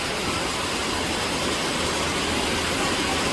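Rani waterfall at Nagarkot, Nepal, roars as a dense, steady broadband rush of falling water, loud and close with no breaks and no voices.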